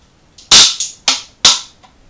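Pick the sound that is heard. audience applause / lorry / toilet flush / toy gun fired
toy gun fired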